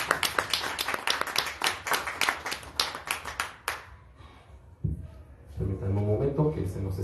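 Brisk clapping from an audience for a speaker at a Madrid university event, fairly close and sharp for a few seconds, then it fades and a voice begins talking.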